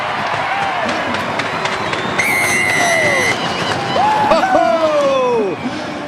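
A rugby crowd roars as a player runs in a try during Auckland against Southland in the 2015 ITM Cup, the cheering swelling and rising in the stadium, with whistles and horns sounding through it.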